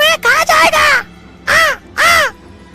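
A cartoon crow caws five times, loud and close, in a quick cluster of four harsh calls followed by a pause and two more spaced caws.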